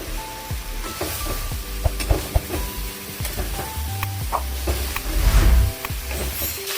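Onions frying in oil for a Nepali jackfruit curry give a moderate, close sizzle broken by frequent spoon scrapes and clinks against the pan, with a louder stirring burst toward the end.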